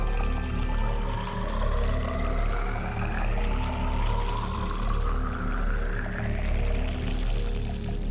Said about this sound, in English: our groovy little water machine over here that is busily filtrating water